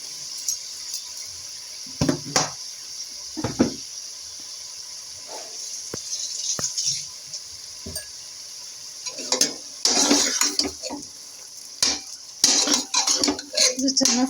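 Chicken seasoned with turmeric and salt is stirred and fried in a pan, with repeated metal scrapes and clanks of a spoon against the pan over a steady hiss, louder bursts of stirring near the end.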